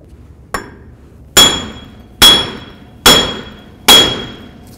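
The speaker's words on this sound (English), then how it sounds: "when I smack this with a hammer to get this off" Five sharp metallic hammer strikes ring out on a 1984-2001 Jeep Cherokee front wheel bearing, a light tap followed by four hard blows at a steady rhythm, each with a bright clanging ring, close by.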